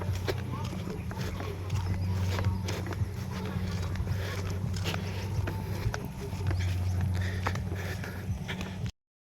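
Steady clip-clop of hooves from a water buffalo hauling harvest nearby, with a constant low engine-like drone and outdoor noise throughout.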